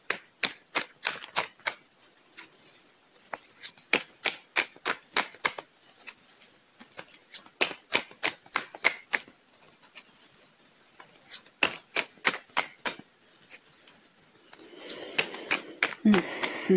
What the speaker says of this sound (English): I'm going to pull just, one tarot card and one oracle card.